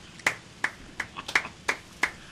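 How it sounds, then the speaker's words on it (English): Audience clapping at a sports quiz comedy stage show: a few sharp, separate handclaps in a loose, steady rhythm, close and fairly loud, with no voices over them. "That deserves a round of applause."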